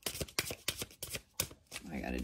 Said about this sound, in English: I gotta do another shuffle.